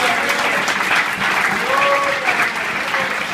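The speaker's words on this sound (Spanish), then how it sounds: "Denle un fuerte aplauso al Señor Jesús" A church congregation applauding loudly at a Spanish-language sermon: a full, sustained burst of clapping lasting over three seconds, with a voice rising briefly above it.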